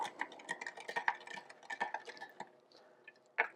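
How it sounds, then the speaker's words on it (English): A spoon clinks and scrapes rhythmically against the inside of a container, quick light taps stirring a photographic toning solution in water close by, then slowing to a few final clicks. "Give it a good stir."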